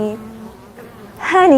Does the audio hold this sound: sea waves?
no